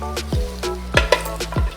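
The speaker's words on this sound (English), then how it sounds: "Let's start frying these." Johnnycakes frying in a pan give a steady sizzle, with repeated sharp metallic clinks and scrapes of a utensil against the pan, loud and close.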